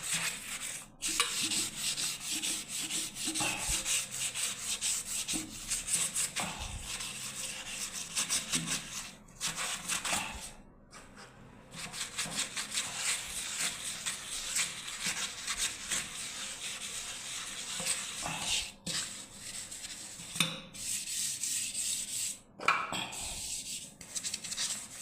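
Cloth is rubbed hard with Surf detergent in repeated strokes, close and fairly quiet, forming an ongoing rasping scrub broken by a few short pauses.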